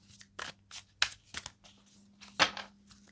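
Dear Universe oracle cards are handled and shuffled up close in a quiet room, a few separate papery riffles and snaps with short pauses between them, over a faint hum.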